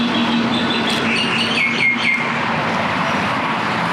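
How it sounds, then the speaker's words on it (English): A bird calls with a few short chirps and whistles over steady loud background noise, with a restaurant setting suggested by the surroundings. "It's talking to another bird over there."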